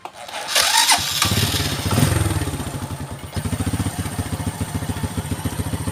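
Carburetor motorcycle with hard starting in the morning, heavy fuel use and a suspected leaking valve, its engine starting with a clatter and then idling with a steady, uneven putter, close by, while the mixture screw is adjusted.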